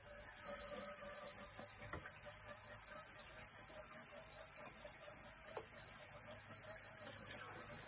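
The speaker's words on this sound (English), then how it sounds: "we're going to turn on the faucet" A turned-on faucet runs steadily, filling the sink with warm water for handwashing, a soft even wash of water with no speech.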